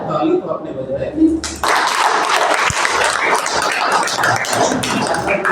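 Students in a chemistry classroom break into a burst of clapping that starts abruptly and carries on steadily and fairly loud, with scattered voices mixed in.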